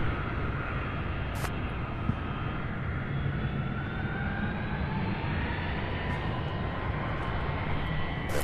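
A Boeing 757 jet at Louisville International Airport with a steady broadband engine roar, a sustained rumble heard from some distance, plus a couple of brief clicks and no talk.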